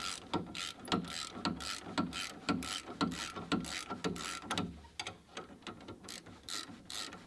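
Ratchet wrench loosening a bolt during axle replacement on a first-generation Porsche Cayenne, a series of rapid clicking pawl bursts in a steady back-and-forth rhythm, fairly close and moderately quiet.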